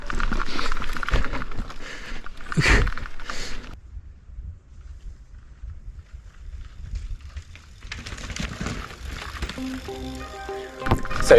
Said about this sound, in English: That stick tore my mudguard and it's now rubbing on the tyre tread.